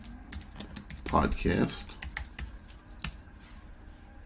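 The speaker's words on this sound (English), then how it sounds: "I typed into my browser Google" Quick bursts of typing on a computer keyboard, a cluster of rapid keystrokes followed by a few scattered taps, heard close up beside someone talking.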